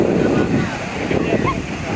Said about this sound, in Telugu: most happening beach guys Pondicherry